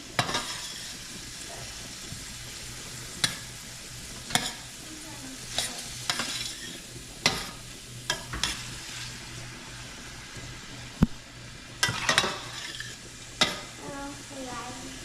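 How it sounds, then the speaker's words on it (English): A spoon stirs steamed cabbage in a cooking pot, giving soft scraping strokes at irregular intervals over a low steady simmer or sizzle, with occasional sharper knocks against the pot. "And we're just going to stir this in."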